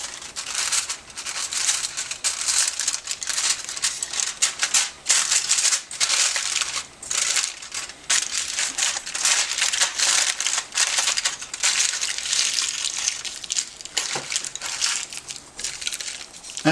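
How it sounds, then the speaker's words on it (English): Double-layer aluminum foil is stretched taut over a hookah bowl, crinkling and rustling continuously up close in loud, irregular bursts of crisp crackles, with no talking. "I have my double layer aluminum foil. I'm going to pull this taut over the bowl"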